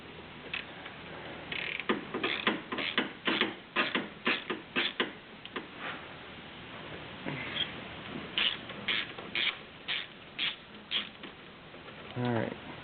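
A swivel socket on a long extension works loose an alternator bolt on a Toyota Highlander, giving a series of close, rhythmic ratcheting clicks in bursts, with a short pause midway.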